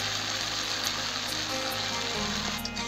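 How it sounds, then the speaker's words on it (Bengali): Ginger and cumin paste frying in a pan with turmeric for a potato and tangra fish curry, a steady dense sizzle that stays loud and close throughout. "আদা জিরা বাটাটা একটু ভালো করে ভেজে নেবো।"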